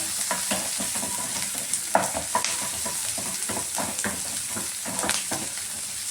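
Chana dal fries and is stirred in a pan, giving a continuous crackling sizzle broken by repeated scraping stirs, close and steady with no talking.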